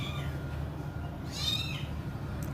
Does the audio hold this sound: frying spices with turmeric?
no